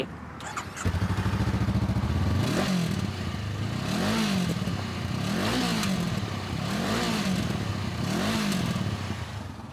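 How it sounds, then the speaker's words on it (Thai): Stock-exhaust two-cylinder touring motorcycle starting up and then revving in several regular bursts, each rising and falling, close and fairly loud over an idle, with no talk. "เดี๋ยวเราฟังเสียงท่อหน่อยไหม"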